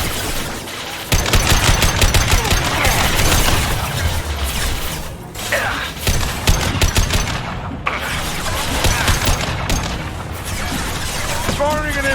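In the video game Mass Effect 2, an impact shot and gunfire make dense, loud rapid bursts and booms running nearly continuously for several seconds, with voices and battle effects mixed in.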